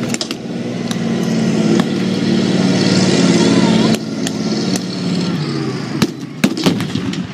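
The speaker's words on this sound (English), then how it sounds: "Cromwell tank is now moving up on the British left flank and is opening fire." A Cromwell tank at a military show rumbles and its engine labours under an announcer's voice, followed by several sharp bangs of gunfire near the end.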